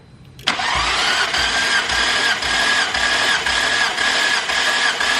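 A Nissan R34 GTR engine cranks on the starter during a compression test, a sudden loud onset followed by a steady, rhythmic whirring churn that never fires, close and continuous throughout.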